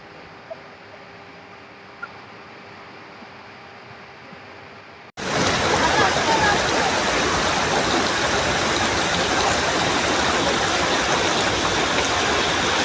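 After a few seconds of quiet background, a loud, steady roar of rushing stream water takes over and continues unbroken, close and dense.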